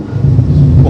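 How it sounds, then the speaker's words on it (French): A Morgan Sport 3.7 engine runs with a loud, deep, steady rumble that swells slightly, heard from on board with some wind noise. "Le son du moteur, écoutez."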